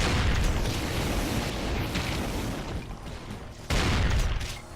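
Pump-action shotgun blasts in the Doom map Memento Mori, fired at range: loud booming shots with a thick, rumbling tail, the last blast landing sharply near the end.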